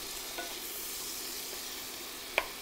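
Minced garlic and onion sizzle softly in a pan while being stirred, a steady low frying hiss with a light scrape or clink near the end, no voices.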